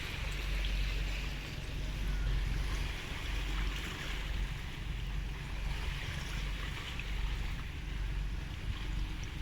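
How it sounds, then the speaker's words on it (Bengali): Wake waves from a passing ship wash onto the bank of the Hooghly River in a steady, full rush of water and wind, close and fairly loud, surging gently without pause. "জাহাজ চলে যাচ্ছে এবং জাহাজ চলে যাবার ফলে জলের মধ্যে একটা তরঙ্গের সৃষ্টি হয়েছে তারই জলের যে জলধারাগুলো ডাঙার দিকে আছড়ে পড়ছে"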